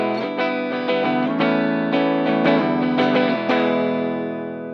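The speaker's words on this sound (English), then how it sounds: "Hit me with a chord. And then go to the neck." A Heritage H-535 electric guitar on its bridge pickup is played through a distortion pedal, giving a loud, driven run of several strummed chord changes that ends in one ringing, sustained chord, with no talk over it.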